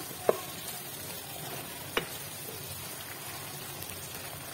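Onions and two medium sliced tomatoes fry together in a pan with a soft, steady sizzle, marked by a couple of brief clicks of a utensil.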